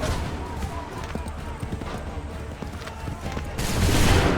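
Musket volleys crackle on a battlefield in the game Assassin's Creed 3, a dense, rolling fusillade of overlapping shots building louder toward the end, with shouted voices mixed in.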